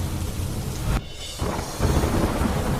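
Heavy rain pours steadily during a storm, with a rumble of thunder rolling through before the downpour briefly thins and then surges back loud and close.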